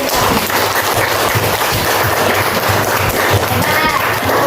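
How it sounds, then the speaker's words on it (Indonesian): A first-grade class of children clapping loudly in a math lesson, a close, continuous rattle of small hands mixed with children's voices and chatter throughout. "memberikan tepuk tangan meriah"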